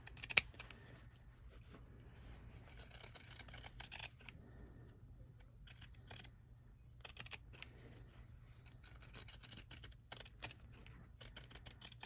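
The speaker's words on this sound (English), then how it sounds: "just take your pinking shears and carefully cut around about 1/4 inch outside your stitch line" Pinking shears snipping through fabric around a stitched floral stem, a steady series of faint, crisp cutting crunches with brief pauses, close by over a low steady hum, no voices.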